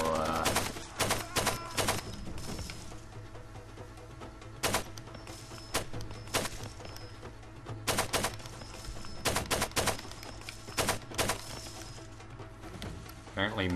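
Far Cry 2 gunfight with 7.62 rifle fire, heard as repeated clusters of sharp cracking shots and short bursts spread across the stretch, over a low steady hum, with a voice talking at times.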